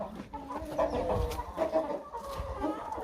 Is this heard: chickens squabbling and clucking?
yes